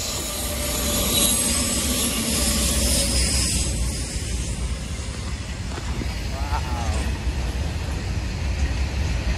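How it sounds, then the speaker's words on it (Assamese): A train rumbles loudly along the tracks in a continuous roar, with brief metallic squeals of wheels rising through the noise. "এইয়া লাইনত চলা ট্ৰেইন।"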